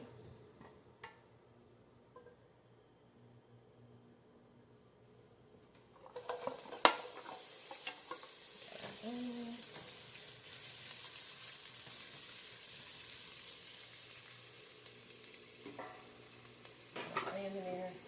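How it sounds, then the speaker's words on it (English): Onions and peppers hit hot avocado oil in a pan for a chickpea stew, and after a quiet start a steady sizzle rises with a few utensil clinks against the pan, holding even to the end. "So we get to sauteing our onions and our peppers"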